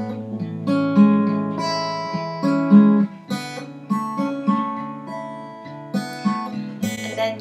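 An acoustic guitar plays a fingerpicking pattern for a song, a clear close solo melody of plucked notes over steady bass notes, with no voices.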